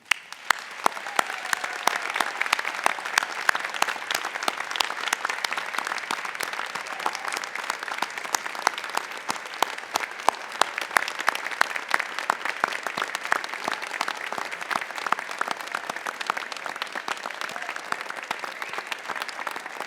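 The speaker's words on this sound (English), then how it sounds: "Graduates, let's give a fine round of applause and appreciation." Sustained applause from a large audience at a 2023 medical college commencement ceremony, steady dense clapping with scattered louder claps for about twenty seconds, no talk over it.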